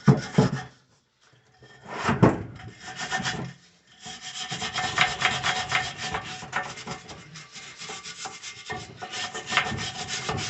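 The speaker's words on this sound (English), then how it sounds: "pretty much everywhere with just the wire brush" Wire brush scrubbing rust and paint off rough weight plates. Harsh, close bristle scraping comes in bursts, then settles into long continuous strokes with brief pauses, and no voices.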